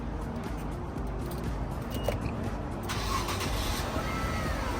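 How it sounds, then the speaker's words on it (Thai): A 2000 Nissan Cefiro A32 engine idles with a steady low rumble, and a brief, quiet starting surge comes partway through. No one speaks. "ฟังเสียงเครื่องยนต์"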